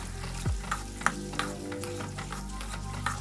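Boiled eggs frying in a tablespoon of oil in a pan, with a steady close sizzle broken by a few sharp pops and spatters, no voices.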